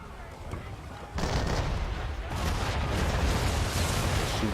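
Enemy ship cannons firing in Assassin's Creed 3, a dense run of heavy booming blasts that jump in loudly partway through and keep rumbling on one after another, close and continuous.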